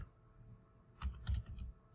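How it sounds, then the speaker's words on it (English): Typing on a computer keyboard in a quiet room, a short burst of soft, close key clicks after a near-silent start. "I move to the address bar where I'm going to type in the official diversity visa program website address"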